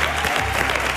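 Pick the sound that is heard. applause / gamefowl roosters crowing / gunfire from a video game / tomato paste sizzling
applause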